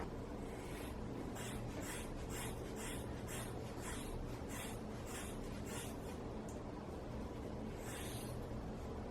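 Quiet, repeated snipping bursts of small scissors cutting long hair in a DIY layered haircut, about a dozen crisp cuts in a steady rhythm over a low background hum.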